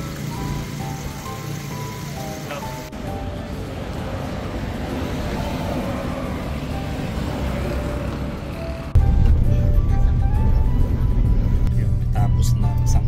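A motorized tricycle rides through rainy Baguio traffic, its engine rumbling steadily with rain and road noise around it, growing louder and heavier near the end as the ride continues.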